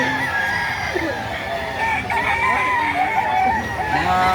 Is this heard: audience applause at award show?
no